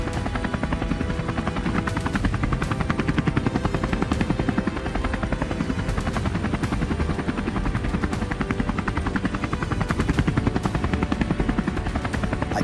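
A helicopter flies over farmland during a wild boar hunt. Its rotor beats in a loud, fast, steady chop that carries on without a break, with no voices over it.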